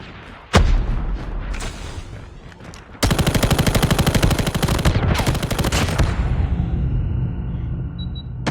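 Rapid automatic gunfire in the mobile shooter Call of Duty Mobile, starting with one sharp shot, then a dense burst of sustained fire that runs loud and close through most of the scene.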